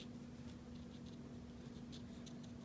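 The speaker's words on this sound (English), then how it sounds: "I'm going to now add a little color to the background" Markers scratch softly across a handmade card as the background is colored in, giving quiet, repeated strokes over a steady low hum.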